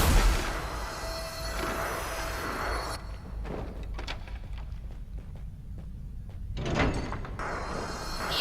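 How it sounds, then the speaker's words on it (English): A door opens in the dungeon video game Dungeon Stalkers, a heavy grinding slide followed by muffled thuds and a deep rumble, loud and close amid the game's ambience. "Open the door."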